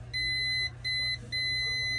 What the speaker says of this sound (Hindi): ये ऊपर की साइड पे इस कैप पे बीप आ रहा है